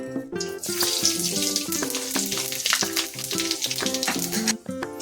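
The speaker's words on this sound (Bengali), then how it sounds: "আমি ওই ভাজির তেলেই এবার ফোড়ন দেব। দিয়ে দিচ্ছি 5 ফোড়ন" Bengali five-spice tempering hits hot frying oil left over from frying vegetables for shukto, giving a steady bright sizzle with clinking and stirring sounds. Strong tonal background music plays throughout.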